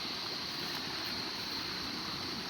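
Gently flowing forest stream water, a soft constant trickle heard from a short distance, with a thin high hum sitting above it.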